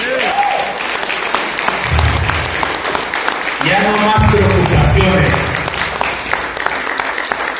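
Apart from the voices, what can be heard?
church congregation applauding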